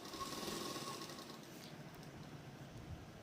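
A sewing machine runs a straight seam on a salwar, a quiet, steady whirring drone with faint rhythmic stitching texture, fairly close but low in level, with no talking.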